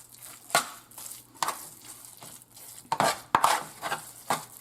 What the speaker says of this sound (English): That's stirred up really good